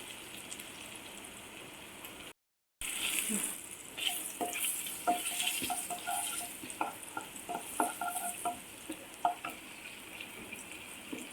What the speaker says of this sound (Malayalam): അരിഞ്ഞു വെച്ചിരിക്കുന്ന വെളുത്തുള്ളി നമ്മൾ അതിലേക്ക് ആഡ് ചെയ്തു. അതൊന്ന് ചെറുതായിട്ട് മൂത്തതിന് ശേഷം